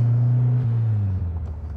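A 1970 Volkswagen Beetle Convertible driving, its engine giving a steady low droning rumble with a slight drop in pitch partway through, close and loud with no talk.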